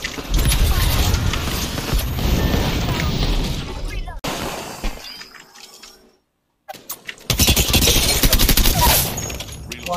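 Rapid automatic gunfire and heavy bursts from the Apex Legends battle-royale game, loud and dense, cutting out briefly before resuming in fierce volleys.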